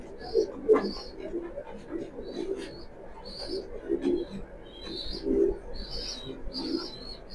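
Racing pigeons coo softly and repeatedly at close range, with occasional higher chirps from other birds and a low murmur of background noise.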